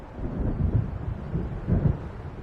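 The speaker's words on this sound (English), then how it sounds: "It seems there's a storm coming." Deep rolling thunder from an approaching storm in the video game Alan Wake, two broad low rumbles swelling and fading over a steady windy, rainy background, with no talk.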